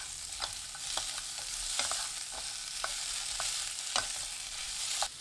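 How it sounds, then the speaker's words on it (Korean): Cucumber and minced garlic stir-fry in oil in a hot pan over high heat, a steady close sizzle broken by repeated sharp scraping clicks of stirring. "지글지글 소리 나면 바로 오이 넣고 볶아주세요."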